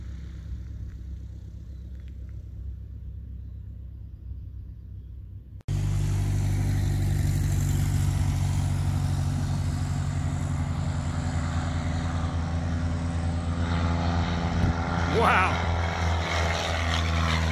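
A Carbon Cub amphibious floatplane with Aerocet GC700 floats departs Nevada County Airport. A low idle gives way to a sudden surge of full engine and propeller power, a loud, steady roar holding through the takeoff run. Speech is heard faintly.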